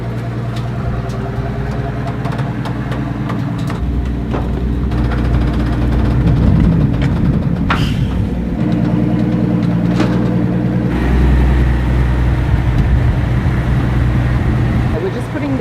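A 700-horsepower Maybach V12 biturbo engine idles with a steady low rumble close by, swelling slightly in the middle and toward the end, while people talk over it and occasional clicks and clatter sound nearby.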